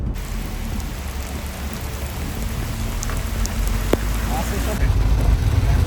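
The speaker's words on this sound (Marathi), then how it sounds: "बापरे केवढा पाऊस सुरू झालाय" Heavy monsoon rain pours down in a dense, steady hiss that swells slightly toward the end, with a faint voice somewhere underneath, on a waterfall trek in Maharashtra.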